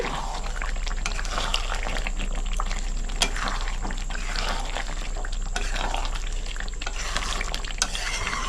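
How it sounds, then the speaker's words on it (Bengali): Chicken kosha being stirred with garam masala in a pan, a steady run of spoon scraping and shuffling over a continuous low sizzle, close and fairly loud, with no talking. "গরম মশলা দিয়ে ভালো করে মিক্স করে নিচ্ছি।"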